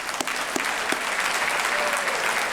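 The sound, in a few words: audience applause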